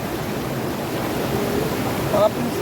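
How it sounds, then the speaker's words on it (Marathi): Steady rushing water fills the clip, a dense roar close by, with a brief faint tone near the end. "पाण्याचा जास्त आवाज येतो"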